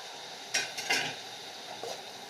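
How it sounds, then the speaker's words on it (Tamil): A spoon scrapes and clinks against a pan while onion, tomato and curry-leaf ingredients for a potato curry are stirred and sautéed, a few brief metallic knocks over a faint low sizzle, no voices. "அதோடு சேர்த்து நல்லா வதக்கிக்கோங்க"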